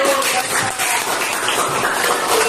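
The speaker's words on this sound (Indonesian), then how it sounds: "beri tepuk tangan bagi Praja" Classroom applause for a student named Praja during an economics lesson on recording transactions, a steady burst of group clapping filling the room for a couple of seconds.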